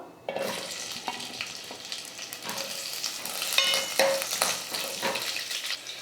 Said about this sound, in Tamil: இப்போ இந்த எண்ணெயில் வெண்டைக்காய் போட்டு நல்லா வதக்கிக்கலாம்